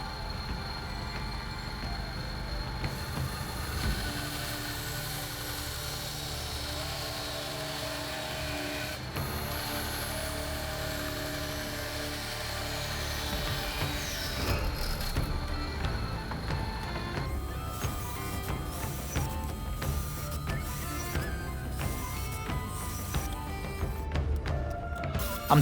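A bandsaw cuts a wooden board at a 45-degree angle, giving a steady motor drone with a rough cutting hiss that grows busier and more uneven toward the end.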